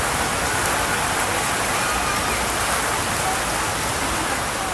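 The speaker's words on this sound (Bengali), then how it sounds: "হঠাৎ করে বৃষ্টি আসলো" Steady, dense rain pours down during a sudden spring shower in Bangladesh, during the season of Kalbaishakhi storms, as an even, close hiss of drops on surfaces that holds throughout with no voices.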